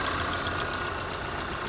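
Car engine idling steadily during a crankshaft position sensor voltage test, a constant close, even hum with a faint rhythmic pulse and no voices.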